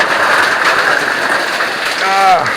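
Water from an enlarged stream pours onto a roof like heavy rain, a steady loud close hiss with a brief whistling tone near the end.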